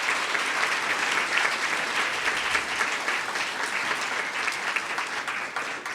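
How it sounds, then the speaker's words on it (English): Loud, sustained audience applause at a community event thanking a client service team, a dense continuous wash of clapping that holds steady for the whole stretch with no speech over it. "help me thank them by giving them a big round of applause"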